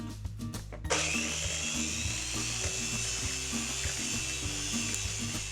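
An electric stand mixer whips aquafaba at maximum speed, a steady mechanical whir with harmonic hum that kicks in loudly after a brief clatter and then runs continuously and close without a break.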